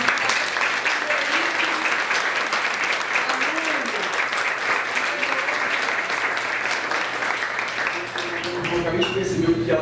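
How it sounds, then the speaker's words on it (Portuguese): An audience breaks into loud, dense applause that goes on steadily for several seconds, close and full, with a voice speaking over the clapping near the end as it thins out. "Uma salva de palmas para toda a"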